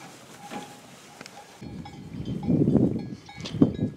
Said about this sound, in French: Là, on entend les cloches, là, mais on ne les voit pas.